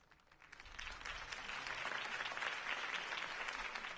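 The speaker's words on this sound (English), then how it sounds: "If only Mr. Wayne, my campaign's largest backer, could have heard that applause" Crowd applause greeting a campaign speech in the Batman Telltale Series video game, swelling from quieter clapping into a sustained, dense ovation that carries on evenly to the end.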